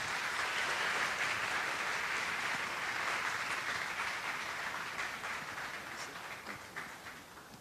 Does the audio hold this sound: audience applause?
yes